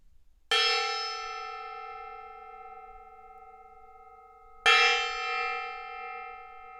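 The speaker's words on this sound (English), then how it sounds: "Ink just used the redeemed for the gong." Decorative gong struck twice, each hit a bright metallic crash that rings with sustained shimmering tones and slowly decays, the second strike about four seconds after the first.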